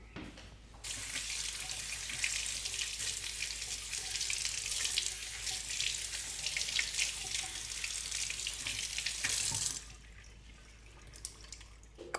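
Fresh parsley is rinsed under a running kitchen tap, a steady, fairly close rush of water lasting about nine seconds before it cuts off, leaving quiet room tone.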